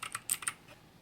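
Bursts of clicky keystrokes on a Zhuque+ e-sports mechanical gaming keyboard with RGB backlighting, several quick taps close together and then a pause, heard up close with no voice.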